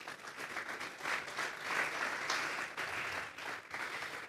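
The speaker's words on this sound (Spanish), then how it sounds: "Vamos a darle un fuerte aplauso pues al Señor." A church congregation applauds steadily, a dense wash of many hands clapping that swells and holds at even volume, with no voices heard.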